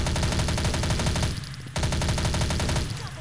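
An MP5 submachine gun in the game Bullet Strike fires in rapid, evenly spaced automatic bursts, loud and close, with a brief pause before a second long burst.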